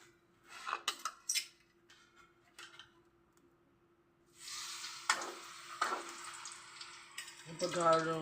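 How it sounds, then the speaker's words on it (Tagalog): Clinking of utensils against a pan, followed by a steady sizzling of an egg frying that continues to the end, with a brief voice near the close. "Nagpiprito lang ka ng itlog."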